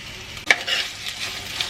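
Sliced onions hit a hot pan for a Kerala beef varattiyath and are stirred, giving a short, close sizzle with a few scraping stirs.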